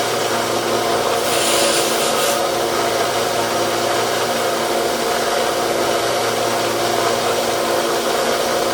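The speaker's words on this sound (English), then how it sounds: "Now what we're going to do is sand that on down, get it smooth, and try to punch it out." Sanding on the blade of a Case XX Stockman pocket knife makes a steady, close abrasive rubbing hiss that runs the whole time, with a brighter, harsher burst of strokes early on and no talking.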